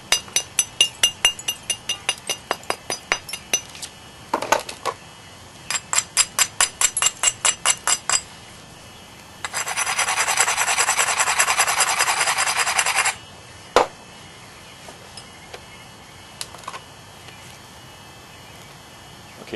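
Sharp stone-on-stone percussion strikes from flint knapping, thinning a stone biface: quick rhythmic runs of crisp clicks and taps in bursts, a stretch of steady scraping abrasion, then a few isolated knocks, close and alone without talk.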